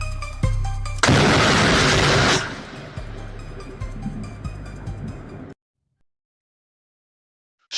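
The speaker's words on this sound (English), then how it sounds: "In a city, lightning strikes a pole near houses." Lightning strikes a pole near houses in a city, a sudden loud crackling burst lasting about a second, followed by a lower sizzling rumble and scattered pops before the sound cuts off abruptly.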